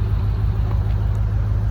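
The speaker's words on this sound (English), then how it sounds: "Hear that sound, that Hemi?" A car with a Hemi engine idles nearby, giving a steady, deep, loud rumble that holds constant throughout with no voices.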